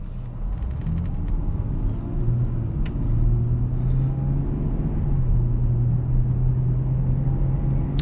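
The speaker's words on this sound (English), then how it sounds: "I wouldn't say suspension noise, I would say more like road noise going on" Steady low road rumble and tire drone inside a 1998 Lexus GS300 on the move, with a faint engine hum underneath and a few small clicks, continuous and even from start to finish.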